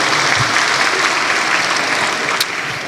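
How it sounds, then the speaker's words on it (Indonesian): Audience applause fills a lecture hall during an Islamic talk on business principles, a steady dense clapping held at an even level for about three seconds with no voices over it. "berikan aplaus dulu ya"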